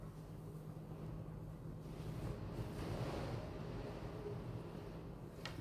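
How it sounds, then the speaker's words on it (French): Strong, very cold wind buffeting an outdoor microphone, a steady low roaring rush that swells slightly midway and holds throughout without any talk. "on a un vent de dingue et en plus un vent très très froid"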